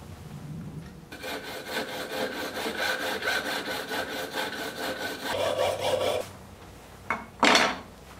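A hand saw rasps steadily through a turned wooden salt cellar to part it free, a rapid even stroke rhythm close up, then stopping with a couple of short scrapes at the end.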